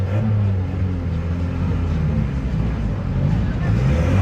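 A 400-horsepower Alfa Romeo 147 1.9 JTD diesel drag car at a quarter-mile drag race, with a steady low engine rumble and drone throughout, loud and fairly close.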